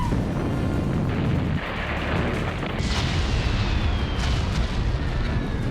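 Bombs from Israeli strikes on Hezbollah in Lebanon keep exploding as a dense, continuous rumble, with heavy, roaring low booms that swell and overlap throughout.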